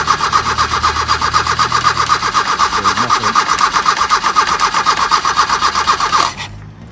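An Opel Manta with a suspected fuel pump problem cranks on its starter in a rapid, even, loud chugging rhythm that runs for about six seconds without catching, then cuts off.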